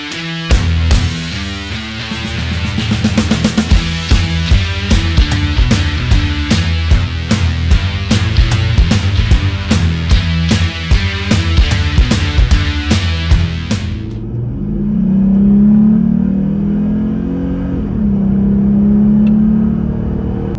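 A Jeep Gladiator V6 engine revs hard in rapid, throaty bursts through a loud aftermarket exhaust, then settles into a low idle rumble.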